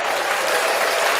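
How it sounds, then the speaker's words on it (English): Sustained applause from a barbershop talk-show audience, dense and even, loud and close throughout with no break. "Round of applause,"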